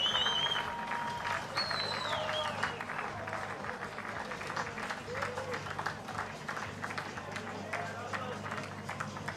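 Golf fans in a hospitality pavilion beside the 16th green at the Australian PGA Championship applaud and cheer a par-saving putt, with steady sustained clapping and crowd noise across the whole stretch and a few whistles mixed in.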